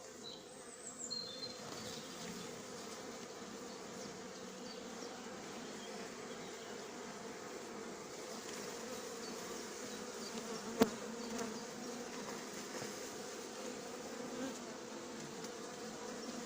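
A honeybee swarm hums steadily as it is settled into a hive, a continuous dense buzz throughout with one brief sharp click partway through.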